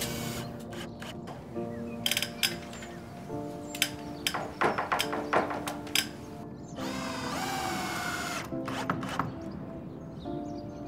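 A power drill screws down a prefabricated roof panel on a garden shed, with short bursts of whirring motor and tapping and clattering of boards and tools nearby, all fairly close and with no talk.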